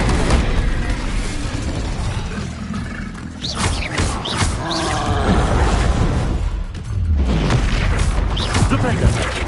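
The Incendio fire spell from the video game Hogwarts Legacy erupts in roaring, booming whooshes of flame, with repeated surges over a loud, busy battle soundscape. A voice can be heard amid the effects.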